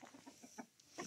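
Chickens clucking close by as they are fed food scraps, a quick run of soft repeated clucks rising and falling, fairly quiet with no talk.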